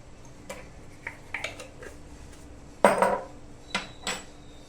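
A small spoon clinks and scrapes in a bowl while mixing coffee powder into curd: scattered light taps with one louder scraping burst, no talking.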